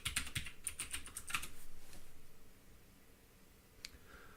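Fingers tap out a quick burst of light keystrokes on a computer keyboard, close and quiet, then a pause and one last click as a password goes in.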